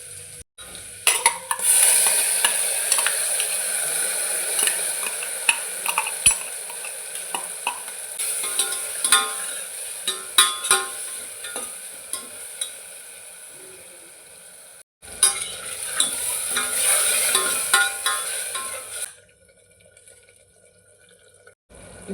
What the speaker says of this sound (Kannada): ರುಬ್ಬಿರುವಂಥ ಮಸಾಲೆನ ಹಾಕ್ತಾಯಿದ್ದೀನಿ.